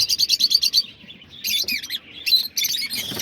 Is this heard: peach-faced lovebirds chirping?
yes